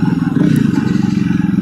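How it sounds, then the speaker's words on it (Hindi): Jawa Perak motorcycle exhaust note: a steady, loud, close thumping putter that pulses evenly at idle or low revs, with no voices. "एग्जॉस्ट नोट इसका इतना अच्छा है कि इस सेगमेंट में इस प्राइस में इससे अच्छा एग्जॉस्ट नोट कोई बाइक का होगा ही नहीं"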